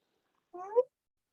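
A single short cat meow, close and clear, rising slightly at its end before stopping, alone against silence.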